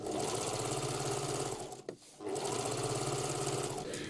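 A sewing machine runs steadily, understitching the lining of a box-style tote bag three millimetres from the seam, with a brief pause near the middle before the motor picks up again at the same even hum.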